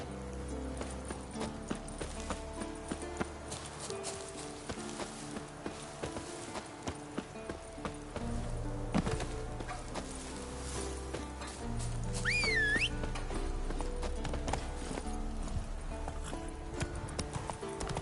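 Roach the horse gallops in The Witcher 3, a steady rhythmic clip-clop of hooves at close range, heard over game music and ambience with a brief whinny partway through.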